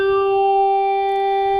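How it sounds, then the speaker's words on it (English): A trumpet tone passed through a formant filter: a steady, sustained brassy tone with a nasal, vowel-like coloring, holding one pitch with rich harmonics throughout. "Then I took the trumpet sound and passed it through a formantic filter"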